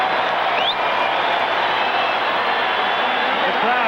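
A hockey arena crowd at the 1980 Olympic USA versus Finland game keeps up a steady, loud, dense roar with chanting, while a commentator talks over it throughout.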